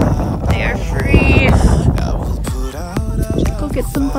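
Wind gusts buffet the microphone outdoors near free-range chickens, making loud, rumbling bursts over scattered faint sounds and brief tonal squeaks.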